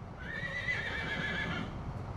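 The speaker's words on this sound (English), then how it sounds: "Katie, she actually is a 10-year-old Belgian horse." A 10-year-old Belgian horse at an equine rescue gives a long, loud whinny, close and clear, with a faint shuffle of hooves underneath.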